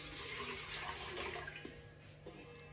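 Water, 700 ml, pours into a planetary mixer bowl, a brief steady splashing gush close by that fades slightly toward the end.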